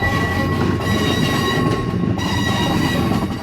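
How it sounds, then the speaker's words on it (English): Amtrak P32-8BWH Dash 8 locomotive number 519 backing its train into the Beech Grove rail yard, a steady close rumble of rolling rail cars with a continuous metallic whine and faint wheel squeal throughout. "the train changed directions at a junction and backs into the Beech Grove yard"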